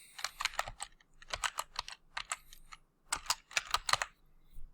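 Fingers type on a computer keyboard in quick bursts of crisp clicks separated by short pauses, close and fairly quiet, with no talking.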